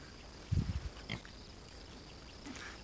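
Pigs of an American Guinea Hog and Idaho Pasture Pig cross grunting outdoors in a pasture on a hot day, a short cluster of low grunts followed by a single fainter grunt, fairly close.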